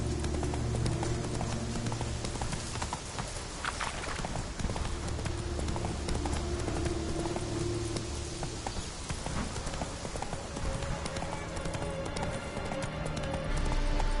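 Roach, a horse in The Witcher 3, gallops at a rapid, steady pace, hooves pounding close and loud throughout, with a dense layer of ambient game sound beneath and no talking.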